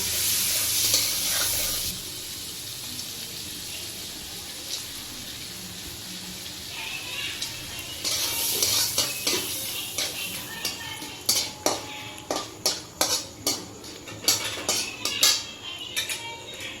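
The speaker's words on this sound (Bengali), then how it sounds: "এবার আমরা দিয়ে দেবো তেজপাতা শুকনো লঙ্কা ফোড়ন" Bay leaf, dried red chili and whole garam masala spices sizzle in hot oil in a pan for butter chicken, a steady hiss broken by sharp clinks and scrapes of a spoon against the pan.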